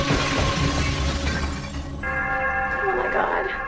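A heavy old mirror hits the floor and shatters, a loud close crash of breaking glass that rings and tinkles as shards settle over about three and a half seconds.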